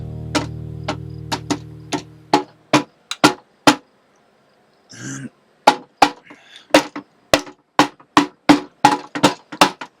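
Light hammer taps ring out around the edges of a Honda CT90 engine case after a low range gear failure. They come as a series of sharp, close, evenly spaced knocks, with a short pause and some faint handling sounds partway through.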